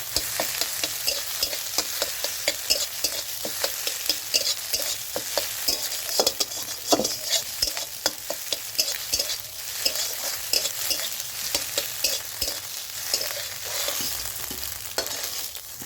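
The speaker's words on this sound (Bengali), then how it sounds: "ডিমটা ভুজিয়া করে নিলাম" Scrambled egg bhujia sizzles steadily in a pan while a spoon stirs and scrapes it in quick repeated strokes, close and loud throughout with no talking.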